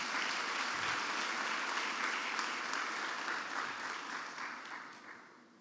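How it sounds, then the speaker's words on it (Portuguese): A church congregation claps together at an evening service, a full, steady round of applause that slowly fades out toward the end. "Vamos dar mais um aplauso para o Senhor bem forte."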